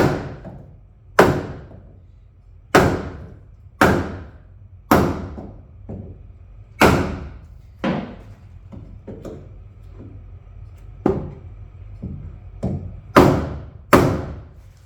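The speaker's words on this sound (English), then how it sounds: "I don't like to hit it directly with a hammer. I like to use a piece of wood." A hammer strikes wood again and again at an uneven pace, each blow a sharp, close knock, some hits heavier than others.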